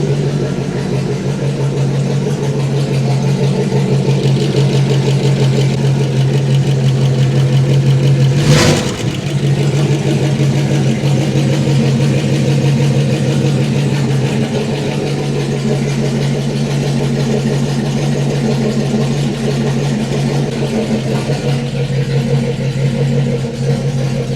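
A scrapped Bentley T MPW convertible runs at a steady, even idle, a close and loud low engine hum with a brief sharp transient partway through, and no one speaks.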